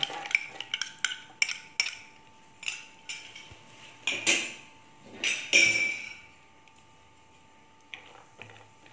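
Cashew nuts dropped into a pan of hot ghee while making rava laddu give a run of sharp clinks and clatters, several quick hits spread over the first six seconds, then quieter faint scraping toward the end.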